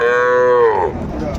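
A single loud, close cow moo, long and drawn out, sliding down in pitch at the end, at the Ambari cattle market in Dinajpur.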